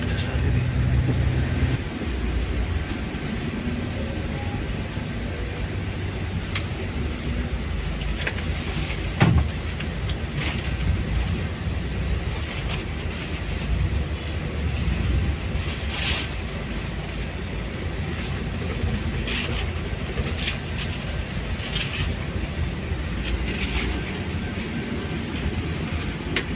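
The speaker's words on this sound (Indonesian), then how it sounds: "tepat jam 3 berangkat dari terminal Arjosari Malang" A PO Restu Panda coach bus pulls out of Arjosari terminal in Malang, giving a steady low engine rumble and road noise inside the cabin, with a brief knock partway through and people talking now and then over it.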